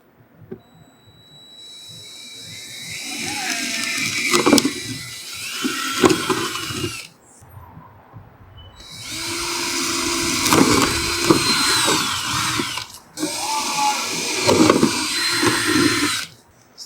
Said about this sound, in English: drill your holes into the bag